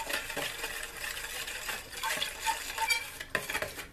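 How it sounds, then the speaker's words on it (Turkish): A spoon stirs yogurt, salt and baking powder together in a bowl for pişi dough, with steady scraping and light clinks against the bowl's sides, close up and with no voices. "Bunları önce bir karıştırayım."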